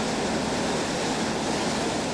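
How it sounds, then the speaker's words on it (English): Steady broadband rush of wind-driven waves breaking white on Lake Nasser on the Nile, a continuous loud wash of water and spray with no voices. "just look at the waves turning white like this"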